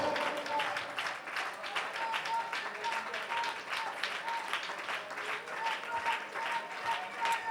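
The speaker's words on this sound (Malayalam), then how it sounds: "കൈയടിച്ച് ദൈവത്തെ സ്തുതിക്കാമോ?" A church congregation at a fasting prayer meeting claps hands in praise, a steady, rhythmic crowd clapping that runs throughout with voices mixed in underneath.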